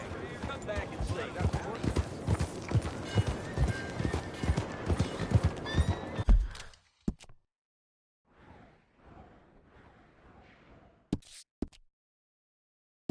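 Rhythmic clip-clop of horse hooves on hard ground with a whinny in Red Dead Redemption 2, dense and close for several seconds before stopping, followed by quieter movement and sharp clicks.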